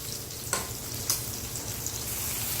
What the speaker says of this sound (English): Not the highest flame, but enough to where it sizzles